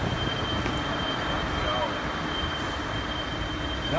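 A vehicle with a faulty drive shaft gives off a continuous abnormal droning roar with a thin steady whine, loud and unbroken like an aircraft coming in to land.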